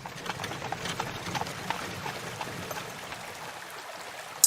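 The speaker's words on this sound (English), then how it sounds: "Slowly their wagons wound through the timber that skirted a river called the Little Box Elder" Horse-drawn wagons roll through timber along a river, hooves clip-clopping faintly in a loose, uneven rhythm at a distance, with soft rustle and a trickling wash beneath.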